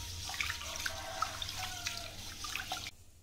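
Pearl millet is washed by hand in a bowl of water: close, soft sloshing and dripping with small splashes that stop abruptly near the end.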